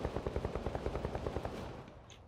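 Rapid automatic gunfire in the vampire battle royale game Vampire: The Masquerade – Bloodhunt, a fast even burst of about twenty shots that fades away, fairly faint and with no talking.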